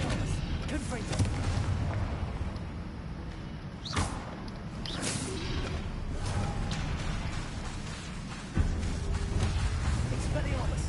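Fiery explosive spell blasts from combat in the Hogwarts Legacy video game, dense and loud throughout, with sharp booming impacts near the start of the fourth second and again near the end, amid continuous battle noise and some voices.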